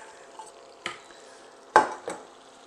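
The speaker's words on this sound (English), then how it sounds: "Just want the butter all mixed together with the flour to make a paste." Butter and flour being stirred together into a paste in a pot, a few close, soft scrapes and taps of the utensil against the pan over a faint sizzle.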